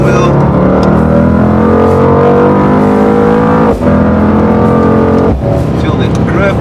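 A car powering through a corner on a race track, engine tone climbing steadily in loud harmonic layers with brief lifts between pulls, while a voice talks over it.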